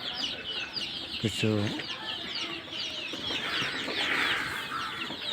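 Adult layer hens cluck and squawk in a busy flock, calls layered continuously over a noisy farm background, with a brief spoken word and a sharper call near the middle.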